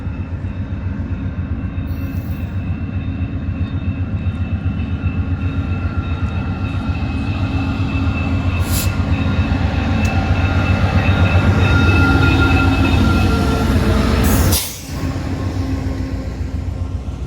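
A CN freight train passes in Brockville with a continuous loud rumble of wheels and cars. It builds slightly, then a sharp break near the end gives way to the ongoing rolling noise.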